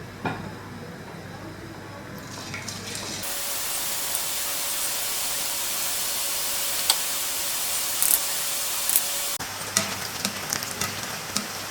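Kara boondi batter frying in hot oil for Diwali snacks, a loud continuous sizzle with crackling pops that settles partway through, and a few faint clicks near the end.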